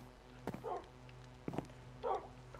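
Dog sounds from the video game Minecraft: a few soft, short yips or pants recur at steady intervals over a low, quiet in-game background hum.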